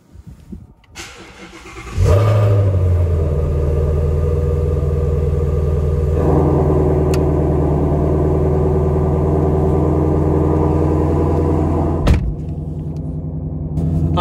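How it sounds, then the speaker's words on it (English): A Shelby GT350 Mustang's engine cranks on a cold start and catches about two seconds in, then settles into a loud, steady, deep idle rumble that cuts off near the end. "that's a cold start in the Shelby"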